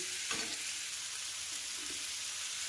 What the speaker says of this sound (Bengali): এবার একটুখানি জল দিয়ে দেবো।